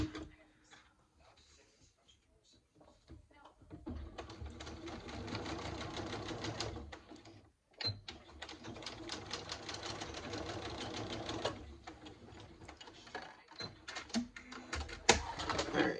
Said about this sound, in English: so I stitch, back stitch, and then stitch again.